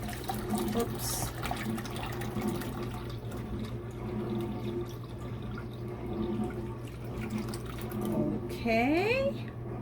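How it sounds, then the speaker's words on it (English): Water poured into a doTerra Dawn humidifier tank gives a moderate, continuous trickle and splash. Near the end come brief rising whistle-like tones and a short burst of louder sound. "Right, let's pour water."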